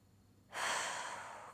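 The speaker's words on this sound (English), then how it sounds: "Keep breathing." A single breath taken during a yoga balance pose: quiet room tone, then a breathy exhale or inhale that starts sharply about a third of the way in and holds steady, soft and close, until the end.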